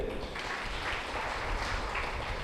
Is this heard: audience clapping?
yes